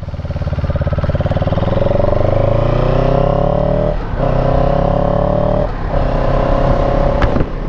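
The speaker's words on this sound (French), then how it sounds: "un moteur très doux, vraiment qui se conduit sur un petit filet de gaz" A CF Moto 700CLX motorcycle engine runs close by, a loud, smooth, steady drone with pitch rising gently, then a brief dip and a couple of short gear-change-like breaks as the revs settle and resume.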